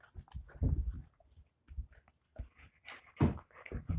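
A dog whimpers and pants close by indoors in short, uneven bursts separated by brief pauses.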